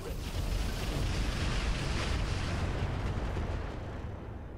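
Weapons fire in the mech combat game Roguetech: a dense, continuous roar of blasts and booms rolls through the whole few seconds, heavy and low, with no voices over it.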